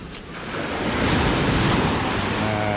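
Sea waves wash onto the shore on a calm day at a swimming spot, a loud, continuous surf roar that swells slightly and is mixed with wind noise, with no talking.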